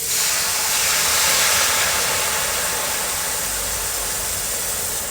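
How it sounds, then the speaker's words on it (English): Hot water poured onto cooking vegetables sends up a loud, steady steaming hiss that fills the whole moment, dense and close, easing only slightly toward the end. "I'm going to put some hot water."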